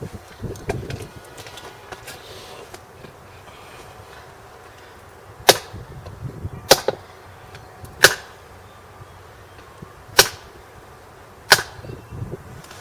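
Buck TOPS CSAR-T folding knife struck with its front end against a hard surface in a hard-use test: five sharp, loud impacts spaced about a second or two apart, with quiet handling noise between them.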